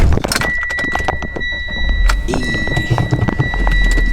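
A Mitsubishi EVO engine runs steadily with a low, full rumble, accompanied by scattered clicks and a light metallic jingle close by.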